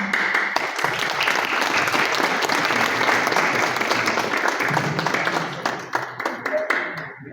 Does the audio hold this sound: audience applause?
yes